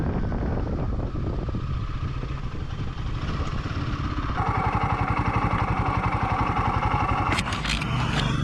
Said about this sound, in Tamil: Himalayan 450 White Devil ஓட ஃபர்ஸ்ட் ரைடுங்க